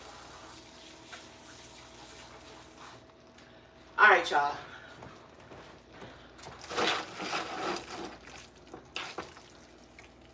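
Drained cooking water from a pot of cheesy pasta pours in a sudden splashing rush, then keeps gurgling and splashing in uneven bursts while someone talks over it at close range.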